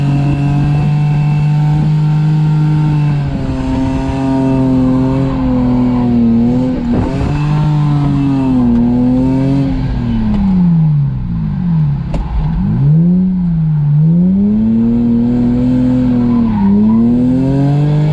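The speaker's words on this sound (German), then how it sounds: "Da driftet Rusak, hat seinen Spaß" A Lexus IS300 drifts with loud, sustained engine revving that rises and falls through repeated throttle sweeps, with tire squeal and skidding layered over it, close and continuous with no talking.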